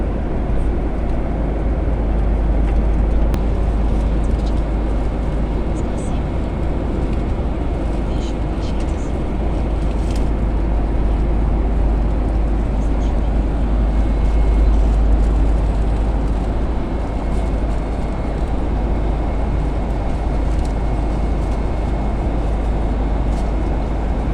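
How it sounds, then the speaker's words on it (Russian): Steady, loud low-frequency roar of a large passenger plane's cabin during flight, a constant broadband engine and air hum throughout with no breaks; a person occasionally speaks over it. "Огромный самолет, огромный. Очень огромный самолетик."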